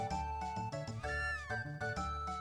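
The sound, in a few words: cat meowing in the video game Chrono Trigger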